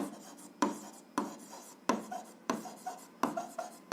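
Pen writing on paper while working an algebra exercise; a regular series of about seven scratchy strokes, each starting with a sharp tap, close and quiet, with no speech.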